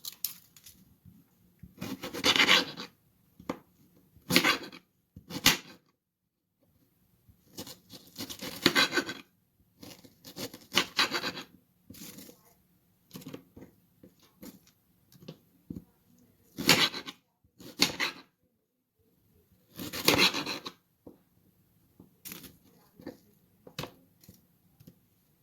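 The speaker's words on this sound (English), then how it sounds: "I just cut these onions into julienne for the French onion soup" A knife slices onions into julienne for French onion soup, producing bursts of rapid chopping strokes on a board, grouped in short runs separated by quiet pauses, close and clear.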